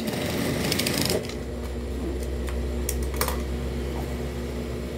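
Sewing machine stitching a homemade phone holder, a fast rattling run of the needle for about a second, then a quieter hum with a few light taps and clicks.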